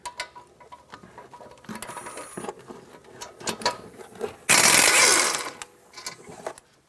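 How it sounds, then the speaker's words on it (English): A ratchet with an 18mm socket removes the brake caliper bracket bolts on a 2012-2020 Ford Focus, making short bursts of clicking near the mic, with one loud harsh burst of noise in the middle. "Now with an 18mm, let's take off these 2 bolts and remove the caliper bracket."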